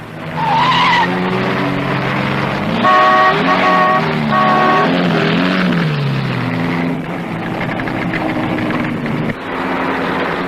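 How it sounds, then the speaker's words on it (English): Rally cars in the 1958 Coupe des Alpes, including Triumphs, climb the Jobo mountain pass. Engines roar loud and close throughout, with rising revs, tyre scrabble and a brief horn-like toot partway through. "The triumphs of Titterington and Annie Swabbo force their way up the Jobo Pass."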